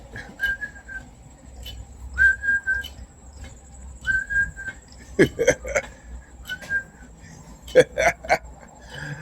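Someone whistles short repeated notes in a halting pattern, interrupted by bursts of laughter and talking nearby.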